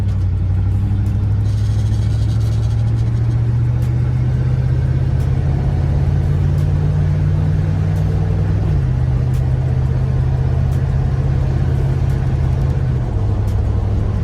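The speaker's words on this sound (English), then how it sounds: "Gotta get the exhaust fixed." A G-body car idles and revs through a faulty, loud exhaust, a heavy, continuous close rumble whose deep tone holds steady, then steps down slightly partway through.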